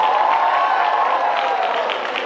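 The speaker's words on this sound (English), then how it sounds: "Please give them a huge applause as well." Audience applause at a college inauguration ceremony in Kerala, a steady, dense wash of clapping that holds at an even level for the whole stretch, with no speech over it.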